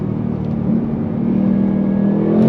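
A 2024 Ford Mustang GT fitted with a Whipple supercharger accelerates under throttle, its steady, deep engine drone growing slightly louder over a couple of seconds, heard from inside the car.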